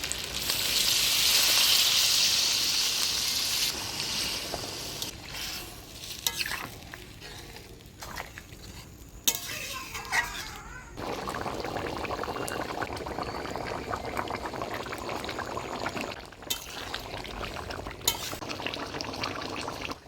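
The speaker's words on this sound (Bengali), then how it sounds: "মাংসটা ভালোভাবে কষিয়ে নিলাম, এবারে জল দিয়ে দিচ্ছি।" Water is poured into a pot of braising chicken curry, producing a loud rush and sizzle that settles into steady bubbling and stirring, close up with no speech.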